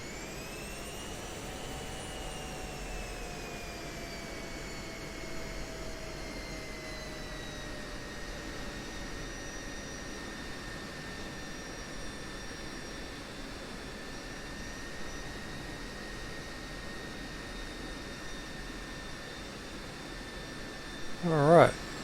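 An F-16C jet engine in a flight simulator spools up for takeoff on a SEAD mission, giving a steady loud whine with rising and settling tonal pitch, followed by a brief burst of noise at the end.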